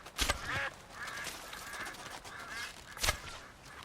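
Ducks honk and quack in the video game Red Dead during a river hunt for small game, with a couple of sharper calls over a steady outdoor wash.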